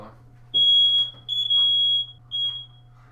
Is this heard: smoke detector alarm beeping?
yes